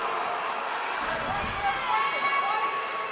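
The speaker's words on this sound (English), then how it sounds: "Nice crowd reaction on the save." Crowd at an ice hockey game reacting to a save, a sustained roar of cheering and hubbub from a lively arena audience, fairly loud and continuous.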